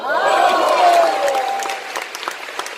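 Audience applause at a healing concert: a voice carries over the room at first, then scattered, fairly close claps continue as the voice fades.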